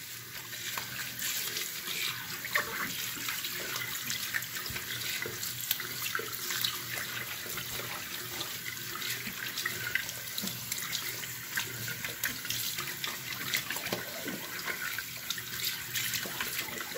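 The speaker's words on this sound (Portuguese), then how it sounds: "E agora você enxágua suas mãos." Water runs steadily from a tap as hands are rinsed under it, a continuous close splashing stream filling the sink with no pauses.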